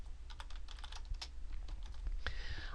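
Steady keyboard typing with quick irregular key clicks throughout, close and moderately loud, while text is entered in Microsoft Word; no voices.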